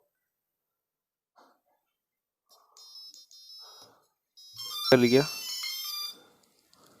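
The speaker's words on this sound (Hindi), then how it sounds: "तो हम पावर कनेक्ट कर लेंगे। बीप सुन लो आप।" A drone ESC beeps during throttle calibration once power is connected: a few short high tonal beeps, then a louder musical beep sequence, with someone speaking in between and over it.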